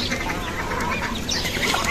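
A flock of white ducks, some crested, crowd around their feed at home, making a dense, continuous close-up clatter of dabbling bills mixed with low quacks and chatter.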